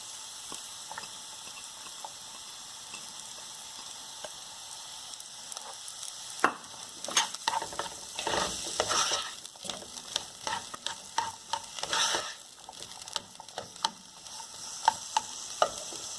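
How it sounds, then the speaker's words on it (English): Onions hit melted butter in a pan and fry with a steady sizzle, as a spoon stirs in bursts of scraping and bubbling, growing busier midway through; no one speaks. "Okay, so the butter has melted. It's time for us to add our onions in there."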